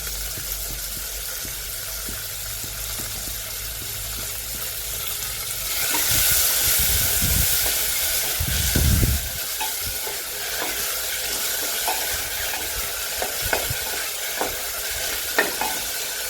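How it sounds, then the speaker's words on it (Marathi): Chopped tomato is tipped onto browned onion in a pan over medium gas for cluster bean amti, and the steady close sizzle swells into a wetter, louder burst before settling back, broken by occasional stirring clinks. "हा जो टॅमॅटो चिरून घेतलेला आहे हा घालत आहोत"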